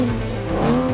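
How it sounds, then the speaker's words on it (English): A sports car on the Thruxton skid pad, engine held at a steady droning pitch with tyres scrubbing and squealing faintly, sustained for about a second. "learn how to do skids and learn how to control your car"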